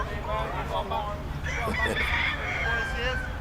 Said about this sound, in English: Oh, a rooster! A rooster!